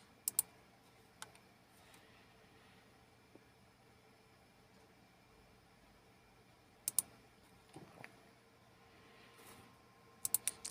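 Sparse bursts of password keystrokes on a computer keyboard, a few quick clicks near the start, a short cluster around the middle and another near the end, fairly close against a quiet room hiss.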